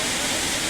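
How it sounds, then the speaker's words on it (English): Broad, steady rush of falling water from a waterfall in Alaska near Salmon Glacier, a dense continuous roar filling the short span at even loudness with no pauses. "Another waterfall."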